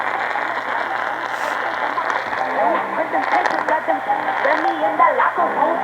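A crackly AM radio broadcast with a voice buried under hiss and static, faint and muffled throughout.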